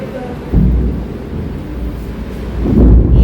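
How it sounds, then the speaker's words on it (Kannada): Low, rolling rumble of thunder during heavy rain that swells toward the end, with wind-like noise and no clear talk. "ಏನೇನು ಓ ಗುಡುಗು, ಅಪ್ಪು ಏನದು, ಏನು ಸೌಂಡ್ ಬರ್ತಿದದ?"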